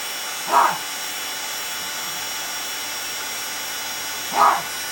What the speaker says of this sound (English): my doggy's barking